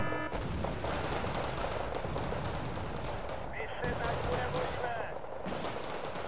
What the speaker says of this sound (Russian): на тебя артиллерия, френдли артиллерия, на тебя